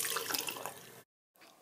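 Tap water runs steadily onto paper towels, wetting them until they are moist, for about a second before cutting off abruptly, followed by a short pause and a softer trickle.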